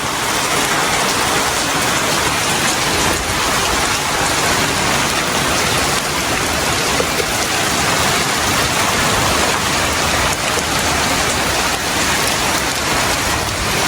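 Heavy rain pours down steadily and loudly for the whole stretch, a dense, even roar of drops hitting surfaces with no voices over it.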